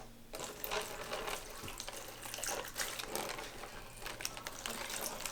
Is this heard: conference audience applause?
no